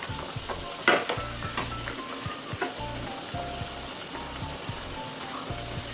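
Katori chaat bowls fry in oil on a low flame, giving a steady close sizzle with soft stirring and clinks throughout and one sharper knock near the start.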